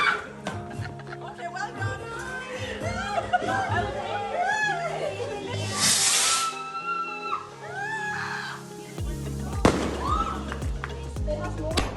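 Fireworks go off on Bonfire Night with sharp crackling bursts amid constant chatter and laughter from a nearby crowd, with a louder bang late on.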